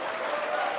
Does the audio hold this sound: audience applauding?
yes